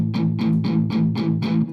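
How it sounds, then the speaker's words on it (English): Electric guitar rhythm playing with light distortion: six evenly spaced strummed chords in a steady pulse, close and loud, with no voice. "you might just start with a little distortion and just be going."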